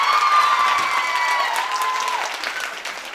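An audience at a recognition program in Gorakhpur applauds, a dense sustained clapping with a few whistles riding over it that tapers off gradually.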